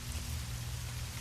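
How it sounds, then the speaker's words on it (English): Heavy rain pours steadily onto a tent, a dense, even patter that stays at one level with no voices. "Only the relentless rain answered."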